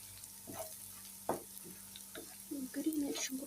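Cumin is stirred into minced chicken frying in a pan, with scraping spoon strokes and bursts of sizzle, close and moderately loud, faint voice underneath.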